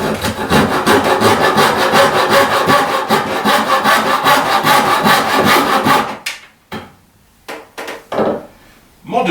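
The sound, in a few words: hand saw sawing wood on Roman workbench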